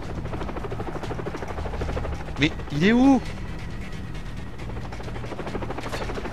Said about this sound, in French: Il y a un hélico qu'on entend, qu'on voit pas.